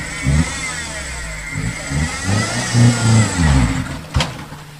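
A 4x4 vehicle carrying goods toward Dolisie on a rough route, its engine revving in repeated surges and easing off, fairly close and loud, with a sharp knock near the end.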